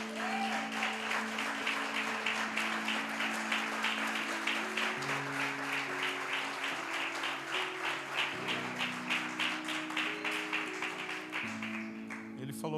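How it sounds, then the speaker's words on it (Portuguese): A church congregation clapping steadily for the Lord, a sustained wash of many hands heard under sustained organ or keyboard chords and some speech, moderately loud and continuous. "Eu queria que a gente aplaudisse o Senhor"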